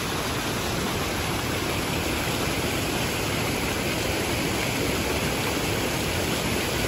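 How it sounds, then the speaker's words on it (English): Water surges through a breached earthen pond dam and rushes downstream in a dense, constant roar, loud and unbroken throughout. "Boy, that water keeps coming up."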